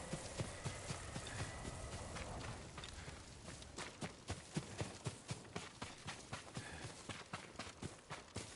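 Horse hooves clip-clopping in the game Ghost of Tsushima, a steady run of distinct hoof strikes over a busy outdoor ambience, fairly close and growing more pronounced as it goes on.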